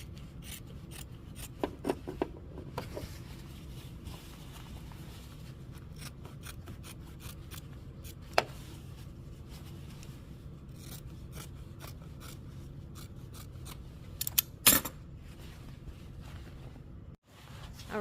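Sharp scissors trim a large fabric seam on a lined garment being sewn, giving quiet, irregular snips and clicks in scattered clusters over a faint steady background, with no talking.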